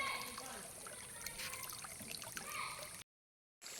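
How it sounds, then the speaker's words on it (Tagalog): Water from a spring trickles and gurgles steadily nearby, a constant splashing flow that cuts out abruptly near the end before returning. "sa bukal na pinanggagalingan po, syempre ay malakas po yung tulo niya"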